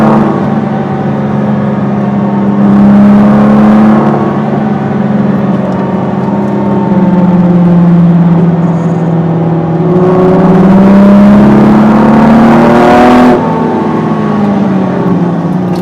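A 2017 Ford GT engine rises and falls through several strong full-throttle pulls with whirring, climbing pitch and brief drops between them, loud and close from inside the car, no talk.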